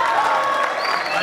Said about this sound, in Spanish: Un gran aplauso también para nuestro director musical